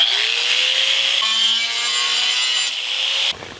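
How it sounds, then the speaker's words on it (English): Angle grinder sharpening the edge of a battle axe forged from a pick axe, a loud continuous high whine with a rising pitch as the disc meets the steel, then cutting off abruptly. "now it's time to bust out the angle grinder, put an edge on this thing"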